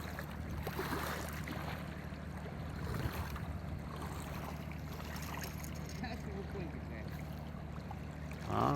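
The season's first boat passes on the river at Yakutsk, a steady rumble of engine and water heard from a distance, with people talking over it.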